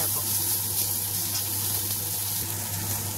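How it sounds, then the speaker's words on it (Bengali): Soybean chunks fry in hot oil in a pan, giving a loud, continuous close-up sizzle with fine crackle that stays steady and unbroken from start to finish. "সয়াবিনটা এরকম করে সুন্দর করে ভাজতে হবে"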